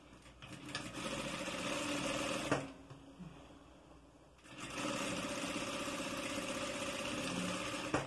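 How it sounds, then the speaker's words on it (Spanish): Sewing machine stitching school trouser fabric: a fast, steady mechanical whir that runs for a couple of seconds, pauses briefly, then resumes and continues to the end, close and clear with no talking. "entonces cosemos el ancho del pie de la máquina también"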